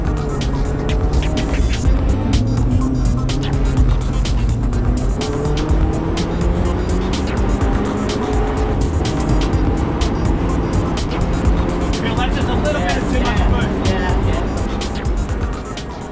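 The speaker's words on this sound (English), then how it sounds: "a ride in one of his customers' highly modified XT Foresters" A highly modified Subaru XT Forester is driven hard around a race track, its engine droning loud and close with rising and falling revs as it shifts through gears, plus occasional tire noise, continuous throughout.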